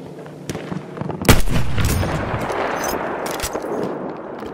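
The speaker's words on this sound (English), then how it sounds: "There's a machine gun!" Heavy automatic gunfire from a World War I shooter game, Battlefield 1: a dense, loud stream of bursts and booming blasts that swells after the first second and keeps rolling to the end.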